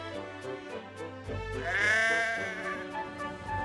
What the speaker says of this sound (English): some careless sheep had strayed onto the line.